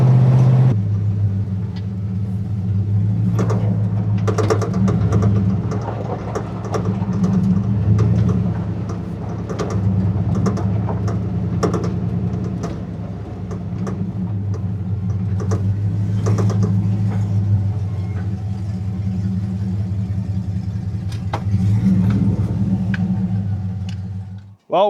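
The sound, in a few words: LS-swapped 1971 Chevrolet C10 truck engine running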